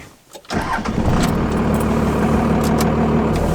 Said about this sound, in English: You can hear that Cummins roar when they're shifting through gears.